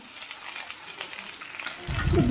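Potato pieces seasoned with salt and turmeric sizzle in a pan, a soft crackling fry that swells louder near the end as they are stirred.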